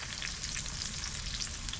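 Onion, tomato, salt and spices frying together in a pan for a fish curry, a dense steady sizzle with fine crackle running unbroken and close, no voices.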